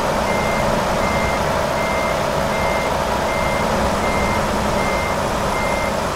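A truck reverses in American Truck Simulator, its backup alarm beeping steadily and loudly throughout over a constant engine rumble, with no talking.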